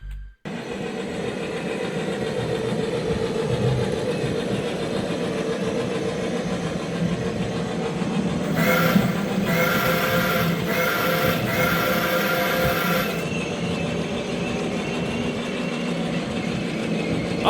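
Steady rumbling engine and rail noise of a train passing in a racing video game, with a brighter clattering burst midway, continuous and moderately loud with no talk.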